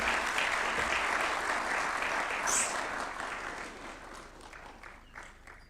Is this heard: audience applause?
yes